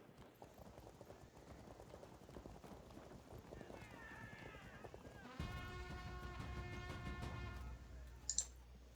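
Cavalry horses clattering in a Field of Glory II battle, a steady rush of hooves and clicking combat noise with a sustained musical drone joining partway through and a brief sharp chime near the end.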